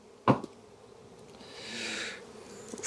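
Honeybee colony of Buckfast/Carnica bees buzzing in an opened hive, a faint steady hum that swells in the middle, after a sharp knock near the start.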